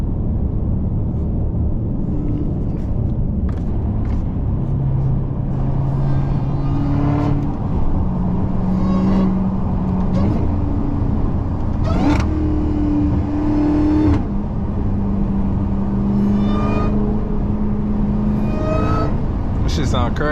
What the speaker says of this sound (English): let me put it in sport. For the people out there that want to hear sport.